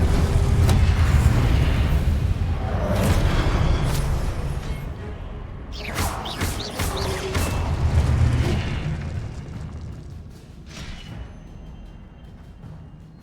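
A Confringo spell in Hogwarts Legacy bursts with deep booming blasts and crackling debris, loud and close at first, then fading into rumbling tails amid game ambience.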